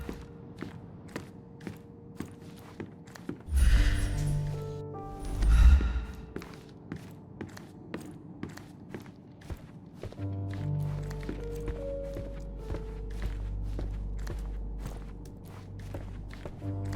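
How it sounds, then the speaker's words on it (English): Footsteps in the Sherlock Holmes Chapter One video game, a steady run of soft, evenly spaced thuds through the clip, with a couple of louder heavy bumps and breathy sighs along the way, over low ambient game music. "I heard footsteps upstairs a second ago."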